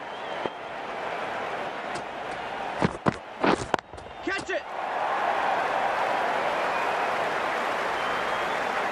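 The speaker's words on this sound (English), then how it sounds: "The crowd are loving this." A cricket crowd at a Sri Lanka versus Ireland test match makes a steady broad wash of cheering and applause, briefly broken by a few sharp knocks and claps midway before the roar swells again.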